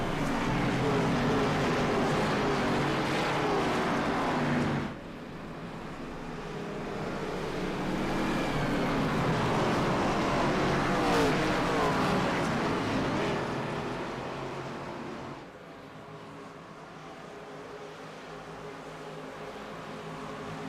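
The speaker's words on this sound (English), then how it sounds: "we are racing in the final race of the season here at Homestead-Miami Speedway" Race cars running in the season's final race at Homestead-Miami Speedway make a continuous broadband roar that swells through the middle, dips briefly near the five-second mark and drops lower toward the end, with no talk.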